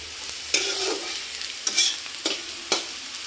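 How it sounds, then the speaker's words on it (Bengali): Carrot, onion, capsicum, beet and green chilli fry in a pan for breakfast chow mein, a steady close sizzle broken by several sharp stirring scrapes at irregular intervals, with no voices. "এখানে দিয়েছি গাজর, পেঁয়াজ, ক্যাপসিকাম আর হচ্ছে বিট, কাঁচা লঙ্কা সব ভাজা হচ্ছে"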